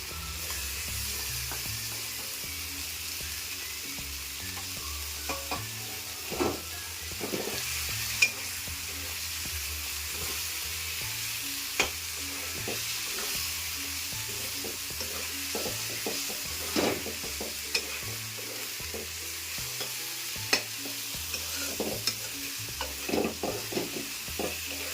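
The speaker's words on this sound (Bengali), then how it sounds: "তাই আমি এবার চিংড়ি মাছটা দিয়ে দিলাম।" Prawns fry in a pan for an ol (elephant foot yam) and prawn curry, giving a continuous sizzle broken by frequent scraping and clinking strokes of stirring, close and steady throughout.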